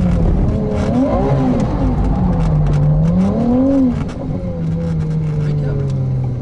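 Ferrari 296 GTB with its V6 biturbo engine accelerating, a loud rising and falling engine note sweeping up through revs then settling into a steady drone, heard from inside the car with voices talking over it.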